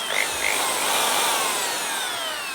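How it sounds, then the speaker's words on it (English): A Black and Decker hammer drill running in hammer mode gives a steady, fairly loud buzzing whir close by for a couple of seconds, with no talking. "You do notice a slight difference in sound with the hammer, and you can feel the difference."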